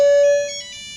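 A cell phone chirps once with a short electronic ringtone, a sharp tone that quickly fades into a faint ringing tail, close and alone.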